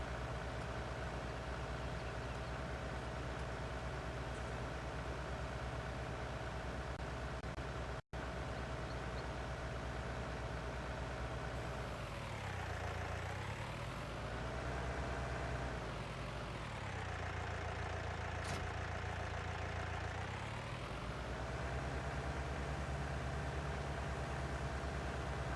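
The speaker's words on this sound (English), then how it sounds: "This tractor drives well backwards." A tractor engine drones steadily while driving, loud and continuous for about 25 seconds, with the revs dipping and recovering twice along the way. There is no talk.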